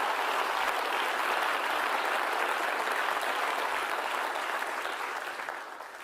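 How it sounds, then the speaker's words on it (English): Loud, dense audience applause at an awards ceremony, a full continuous roar of clapping that holds steady for several seconds before fading slightly at the end. "Another round of applause, please."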